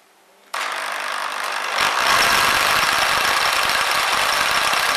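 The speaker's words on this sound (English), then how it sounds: "I'm going to start the engine up with the electric motor attached to it" A car engine with a wasted spark ignition system is spun over by an attached electric motor. After a quiet start it abruptly whirs into a loud, steady cranking drone with rapid rhythmic pulsing and a squealing edge. No one speaks.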